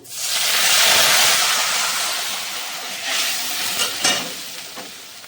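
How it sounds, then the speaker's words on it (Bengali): Whole cumin seeds, slit green chillies and a mixed mustard-powder paste go into hot oil for a Bengali fish curry, giving a loud, close burst of sizzling that gradually settles, with a few spoon stirs and clinks toward the end. "ওই তেলে আমি এখন ফোড়ন দেব গোটা জিরে আর কয়েকটা কাঁচা লঙ্কা চেরা আর এখন দিয়ে দেবো যে সর্ষে পাউডারটা আমি গুলে নিয়েছিলাম"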